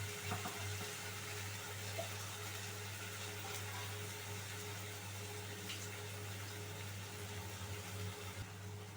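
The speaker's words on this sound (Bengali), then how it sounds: "মশলাটা দিয়ে আমি একটু ভালো করে ভেজে নেব" Spice masala frying in a pan for a papad curry, giving a steady, close sizzle with a constant low hum underneath and no talking.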